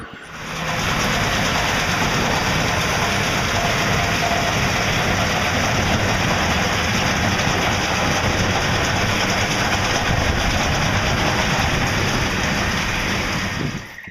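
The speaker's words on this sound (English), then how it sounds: "We're standing here in front of our 2270 XD large square baler. As I mentioned earlier, we're running it with a 7624 Massey tractor." A Massey Ferguson 7624 tractor drives a 2270XD large square baler baling biomass crop in the field, giving a loud, steady mechanical roar with constant rumbling and clatter that holds at an even level throughout, with no talking.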